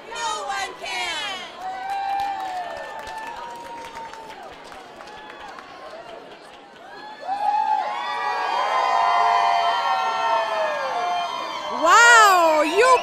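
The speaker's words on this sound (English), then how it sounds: "let's get one more cheer" Kids and school staff shouting a chant and cheering at the Crystal Apple Awards show, with shrill whoops and a louder burst of cheers near the end, mixed with voices.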